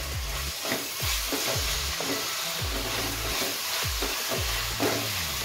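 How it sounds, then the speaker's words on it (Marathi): Veg fried rice ingredients with a pinch of pepper powder are stirred in a hot pan, giving a continuous loud sizzle with a regular rhythm of scraping strokes about every half second. "आता मी हे सगळं ढवळून घेणार आहे।"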